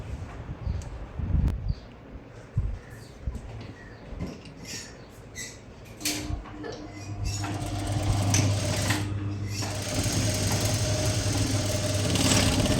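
A sewing machine stitching a blouse runs in bursts, its motor whirring and needle clattering close by, growing steadier and louder in the second half, with no talk.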